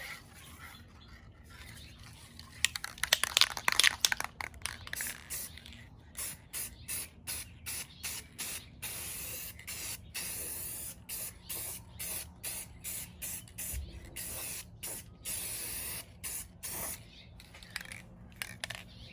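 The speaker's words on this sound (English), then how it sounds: "So now let's put some clear coat on." A rattle can of clear coat sprays a Cadillac CTS coupe rear bumper in many short, evenly spaced hissing bursts, fairly close and steady, with brief pauses between passes and no talking.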